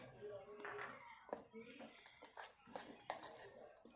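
Garlic pieces fried for a garlic pickle are stirred into the pickle in a pot, giving repeated clinks and scrapes of a spoon against metal, with talk over the mixing.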